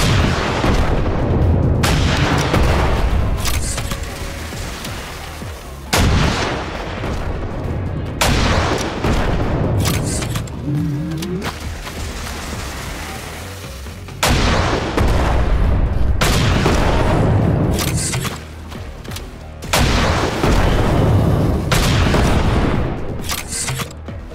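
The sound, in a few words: gunfire in Zombie State FPS video game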